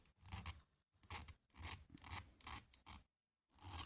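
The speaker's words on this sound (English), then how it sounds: "Shouldn't need a lot of filing." A metal file rasping along the edges of a copper penannular brooch in short repeated strokes, about seven close, crisp scrapes with brief pauses between them.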